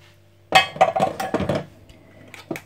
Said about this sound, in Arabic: اذا غنخلطوا هذا الشيء، هذا البيض وهذا القشده الطريه